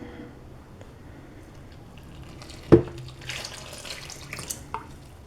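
Warm tap water runs into a kitchen sink while homemade wholemeal bread is being prepared, a steady soft splashing stream with a sharp knock partway through and small drips and clinks after, no talking.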